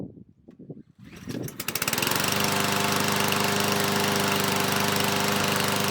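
After a pull-cord rattle, a PowerSmart 170cc self-propelled lawn mower engine starts on the first pull, coughs briefly, then settles into a loud, steady, close-up running roar.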